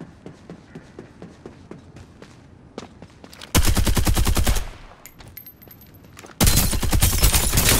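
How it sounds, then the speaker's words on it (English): Rapid automatic gunfire from a battle royale video game, with scattered shots and footsteps followed by two long, loud, dense bursts of sustained firing in an exchange of fire. "Fire on them. Exchanging fire!"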